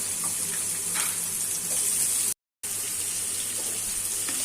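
Chopped onion frying in a small amount of hot oil in a home kitchen, a steady hissing sizzle broken by one brief dropout.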